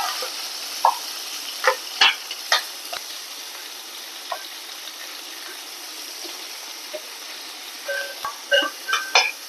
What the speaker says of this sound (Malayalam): സവോള നന്നായിട്ട് വഴറ്റിയെടുക്കണം.